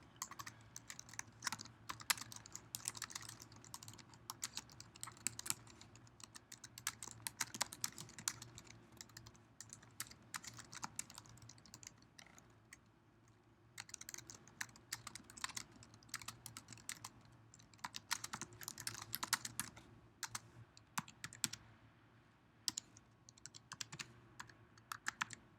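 Steady typing on a computer keyboard while a message is written, with irregular bursts of keystrokes continuing for about twenty-five seconds at a close, moderate level over a low background hum, with no speech.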